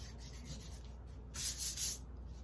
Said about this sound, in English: I'm going to just use my eraser and kind of lightly clean up any areas